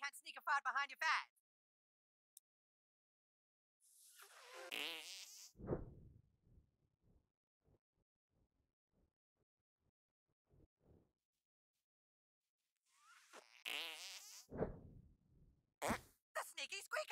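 Sneaky squeaker farts in the South Park: The Stick of Truth video game: high squeaky whining bursts followed by low sputtering blasts, repeated twice with quiet stretches between, fairly close and loud.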